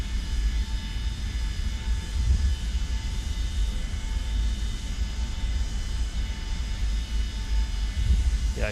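Simulated Boeing 727 engines in Microsoft Flight Simulator 2024 give a steady, loud, broadband aircraft drone with a low rumble and faint tonal whine, continuous throughout with no talk.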